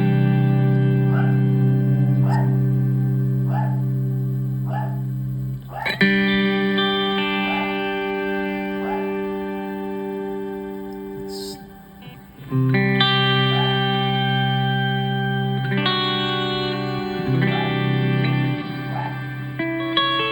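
Electric guitar played through a Line 6 POD HD500 worship patch with an octave effect and stacked reverbs: sustained chords ring out with a thick doubled tone, rearticulated in a few strong strums that decay slowly into long reverb tails.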